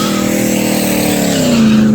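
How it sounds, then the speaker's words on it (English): A drag race car in the burnout box, its engine roaring loud and close while the tires squeal in a rising, sustained screech, with no talk. "Tanner fixing to pull into the burnout box."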